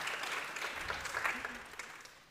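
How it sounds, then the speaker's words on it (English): Audience applause at a regional university-network meeting. The clapping is brief and fairly faint, with scattered claps that fade away over a couple of seconds. "So a round of applause, please, for Barbara Zurilo, Valeria Floriano, Alexa"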